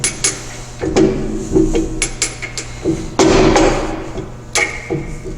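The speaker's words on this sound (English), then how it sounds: "I'll stop as soon as the ram of the arbor press hits the top of my part" An arbor press pushes a dowel pin into a steel tap wrench jaw, producing a series of sharp metallic clanks and thumps at irregular intervals, close and fairly loud with no talking.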